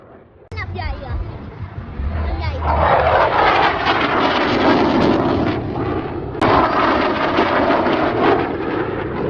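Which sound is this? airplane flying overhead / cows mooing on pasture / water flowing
airplane flying overhead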